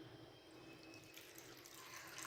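Water pours into a cooking pan of mutton liver masala, a steady, quiet rushing stream that swells slightly toward the end.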